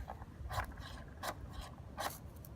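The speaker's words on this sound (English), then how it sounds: "Actually scrape it right down, and the spark falls right into it." A fire starter is scraped down in three or four quick, raspy strokes to throw sparks onto fine birch bark, close and fairly quiet.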